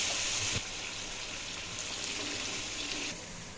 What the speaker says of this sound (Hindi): ये हम पानी ऐड करेंगे 2 गिलास